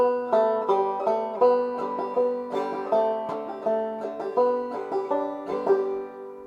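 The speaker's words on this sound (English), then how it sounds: "we're going to do a little bit of single string plucking with the back of our middle fingernail" Bright plucked banjo notes, struck with the back of the middle fingernail in clawhammer style, ring out one after another in an even, lilting rhythm, each sharp attack decaying quickly, played alone and close.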